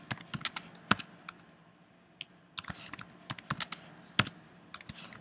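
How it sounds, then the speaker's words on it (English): Quick irregular bursts of clicky keystrokes on a computer keyboard, typing into a text box in Google Slides, close and crisp with brief pauses between flurries. "I can start typing"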